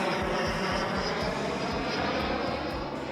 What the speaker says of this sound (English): is wait for that airplane to fly over